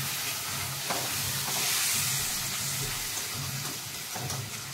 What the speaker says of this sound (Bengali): একটুখানি একটু কষাই।